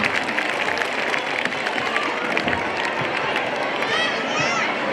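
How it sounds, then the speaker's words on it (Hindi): An audience at a school function welcomes the guests with applause, a dense, loud wash of clapping from many hands that continues steadily throughout, with faint crowd murmur underneath. "सभी अतिथियों का एक बार अपनी तालियों की गड़गड़ाहट के साथ में स्वागत करें।"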